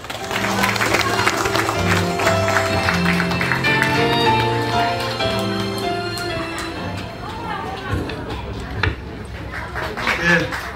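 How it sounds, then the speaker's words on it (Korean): An audience at an outdoor evening youth festival at a Daegu youth culture centre in 2022 applauds steadily for several seconds over background music, the clapping thinning out toward the end as a voice begins. "큰 박수로 모시겠습니다"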